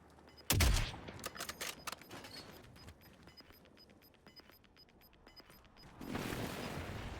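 Bursts of rapid gunfire in a battle royale video game replay, one loud close volley followed by scattered shots and faint distant fire, then a rising wash of noise.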